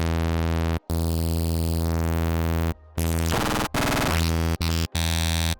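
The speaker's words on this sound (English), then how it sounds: "if we were to use something like one of these spectral tables, it's really noisy." Harsh, noisy Serum 2 FM synthesizer tones using a spectral wavetable, with a buzzing, gritty timbre, sustained and loud, broken by abrupt cuts and shifting into denser bursts of noise.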